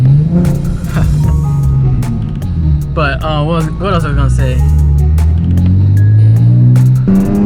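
A Nissan Z sports car's engine drones and rises while driving, loud and close with gear-changing surges, as someone talks over part of it.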